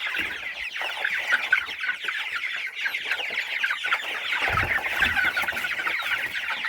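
A flock of chicks about five weeks old clucks and cheeps continuously, a busy overlapping chatter with no pauses, fairly close.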